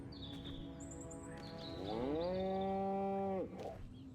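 Single long, loud cow moo from a cow in the video game Destroy All Humans, rising then holding a steady low tone before cutting off, heard over faint ambient game sounds and birds.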